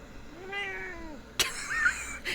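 A cat meowing indoors, one drawn-out rising and falling meow up close, followed by a sharp knock and a second, fainter cry.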